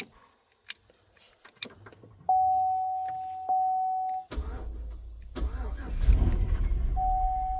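A wrecked Chevy Tahoe's engine is started: a few clicks and a chime, then a long electronic tone while the key sits in ignition, followed by the starter cranking and the engine catching into a low rumbling run.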